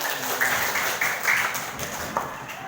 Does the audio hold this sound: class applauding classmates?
yes